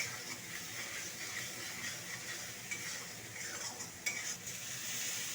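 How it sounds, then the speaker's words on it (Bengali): Turmeric, coriander and cumin powders fry with salt in oil, making a soft, steady sizzle with occasional spoon scrapes and a metallic clink against the pan, heard close and fairly quiet. "অল্প একটু হলুদ গুঁড়ো ধনিয়া গুঁড়ো জিরে গুঁড়ো আর অল্প একটু লবণ দিয়ে সব মশলাটাকে ভালো করে কষিয়ে নেব"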